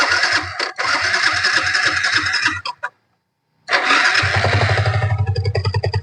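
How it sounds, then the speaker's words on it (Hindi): A Yamaha R15 motorcycle engine cranks loudly and catches, goes silent for a moment, then fires again and settles into a steady, rhythmic idle close to the listener. "तो अब बाइक को कर लेते हैं स्टार्ट।"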